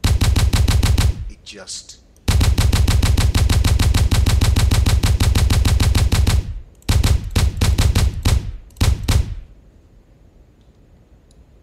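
Video game gunfire from the weapons of Zerahypt: long sustained bursts of rapid automatic fire, then shorter separated volleys and single loud shots, close and dominant, with a brief spoken word near the end.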